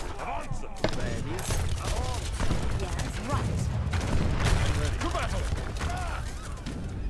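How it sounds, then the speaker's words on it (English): Rocket artillery barrage in Age of Empires 3, a dense run of rapid overlapping launches and impacts rolling on steadily for several seconds as a busy battle mix. "We can actually just go ahead and rocket them to death."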